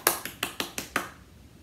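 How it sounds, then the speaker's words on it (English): Five quick, sharp claps in a steady rhythm, fairly close and moderately loud, then quiet, given during a children's read-aloud story time. "Give yourself a clap."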